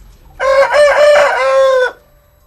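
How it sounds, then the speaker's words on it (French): A rooster crows once on a farm, a loud, close, drawn-out cock-a-doodle-doo lasting about a second and a half against a quiet background. "Qu'est-ce qu'il y a, le coq?"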